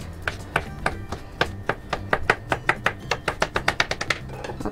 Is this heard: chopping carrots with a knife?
yes